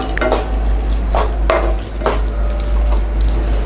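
Tomato rice masala being sautéed in oil in a pan, with a spoon stirring in a few scraping strokes over a low, steady frying sizzle.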